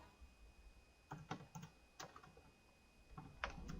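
Several quick bursts of key taps on a computer keyboard, including a press of the numeric keypad's plus key, come in short clusters against a quiet room while entering accounting data in ContaPlus software.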